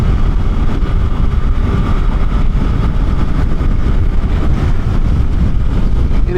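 A Suzuki GSX-8R motorcycle engine heard while riding, a loud, constant rumbling drone mixed with wind roar and no clear pauses.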